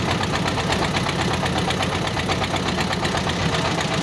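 A river boat's engine chugs steadily and loudly, its even knocking rhythm and rumble filling the air without pause as the boat travels along a river near char lands.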